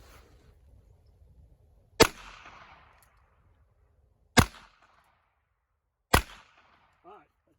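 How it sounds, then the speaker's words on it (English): Three sharp .22 Long Rifle gunshots fired at a refrigerator, spaced about two seconds apart, each a loud crack with a short decaying tail against an otherwise quiet background. "Let's do the 22 long rifle first."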